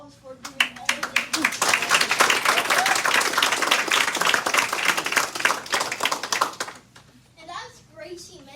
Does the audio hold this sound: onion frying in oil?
no